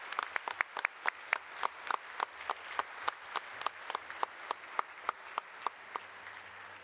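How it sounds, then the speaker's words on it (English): Applause at the 2025 Iowa Governor's Scholar Ceremony, a thin round of clapping with distinct, evenly spaced claps standing out above a softer background patter, moderately distant in a large hall. "Let's give another huge round of applause to our outstanding scholars"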